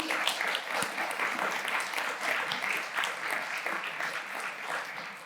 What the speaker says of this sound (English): A small applause to all the